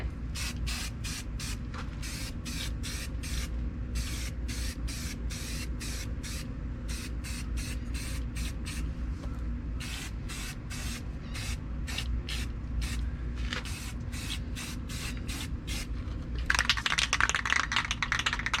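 Bursts of aerosol spray from a can of Rust-Oleum majestic red paint misting onto model truck kit parts, rapid repeated short hisses with brief pauses, ending in a longer continuous spray, close and steady.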